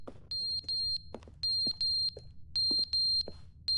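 Incessant electronic beeping in the video game The Stanley Parable, repeated bursts of three shrill beeps at a steady rhythm, interspersed with soft clicks and thumps against a quiet background.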